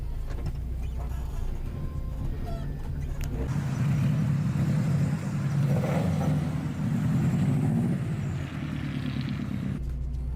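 A rally car's engine drones steadily nearby, swelling in the middle as it passes or revs, then cutting off abruptly near the end.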